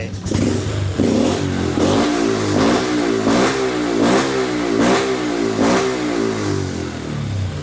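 A Honda Wave 125 fitted with a nitrous system and an aftermarket ECU revs repeatedly, about seven rising and falling throttle sweeps in a steady rhythm over a running engine, close and loud.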